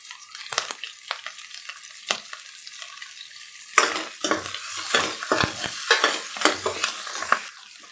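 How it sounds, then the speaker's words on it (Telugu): Leafy greens and curry leaves fry in a pan for a home-style dal curry, a steady sizzle broken by repeated scraping stirs, then a louder, busier stretch of stirring and crackling as more goes in. "ఇవి కాస్త వేగిపోయినాయండి. కొంచెం కలర్ కూడా చేంజ్ అయింది."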